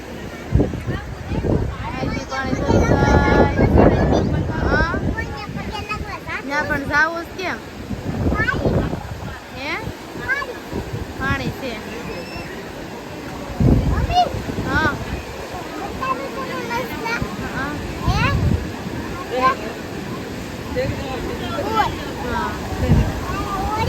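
Sea waves break and wind gusts at Dumas beach in a steady, rough roar with surging swells, while people talk over it throughout.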